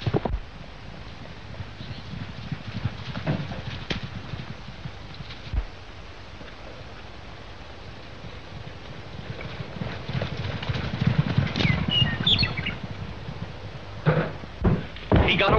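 Horse hooves clip-clop as a rider makes a getaway in a 1936 western, the beats faint and scattered under steady wind-like noise, growing busier toward the end.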